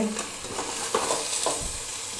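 Chicken sizzles in a pan with fried onion and tomato, a steady close frying hiss with a few soft stirring scrapes.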